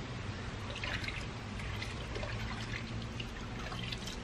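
Concentrated car wash soap trickles from a half-filled cap into a wash bucket, a soft, continuous liquid pour and dribble heard close by for a few seconds.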